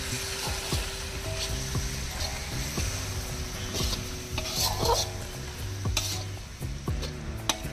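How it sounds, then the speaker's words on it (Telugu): Chicken biryani is stirred in a kadai over a wood-fired stove, with steady sizzling and frying under repeated scraping and clinking of a metal spoon against the pan, close and continuous with no talking. "నెక్స్ట్ మొత్తం ఒకసారి కలుపుకుందాం."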